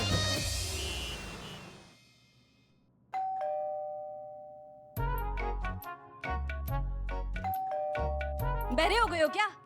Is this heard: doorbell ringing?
yes